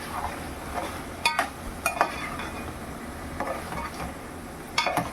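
Chilli powder and turmeric are stirred into mango chicken in a pan: soft scraping and stirring with a light sizzle, broken by a few sharp spoon clinks against the pot, close and alone.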